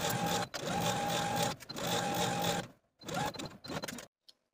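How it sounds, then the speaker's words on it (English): A sewing machine stitches the side seams of a 1960s vintage dress in fast whirring bursts. Two long runs give way to shorter stop-and-start stitching, then quiet. "Now I'm going to sew from the underarm to the small dot with a 5/8 inch seam allowance."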